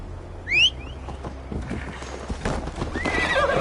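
In Assassin's Creed Valhalla, a horse gives a sharp whinny near the start, then hooves clip-clop in a steady riding rhythm with bird calls in the background.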